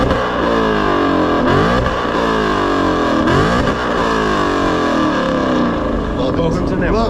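A carbon fiber car's engine roars loud and close, revving repeatedly with rising and falling pitch sweeps in a continuous, dense growl.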